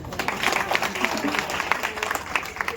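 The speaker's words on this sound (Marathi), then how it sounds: "स्वतःसाठी टाळ्या होऊन जाऊ द्या" A crowd claps together at a Khandoba temple idol and kalash procession, a dense burst of applause that carries on steadily from start to end.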